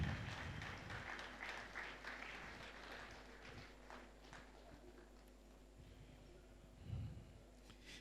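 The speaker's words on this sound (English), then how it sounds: "Please keep clapping for her." Applause from a conference audience at a national advertising event, a broad steady clapping that gradually fades, with a brief swell near the end and a faint voice beneath.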